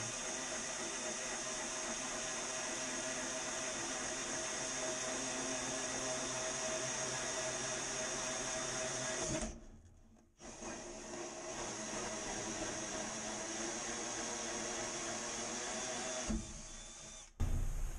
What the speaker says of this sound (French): Et on perce le trou.